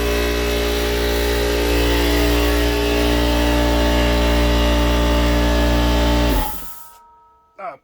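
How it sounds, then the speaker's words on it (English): An air compressor in a motorcycle workshop runs with a loud, steady, tonal drone that holds for about six seconds, then winds down and cuts off, leaving near silence with a short knock at the end. "Perfect timing for the air compressor to turn on, don't you think?"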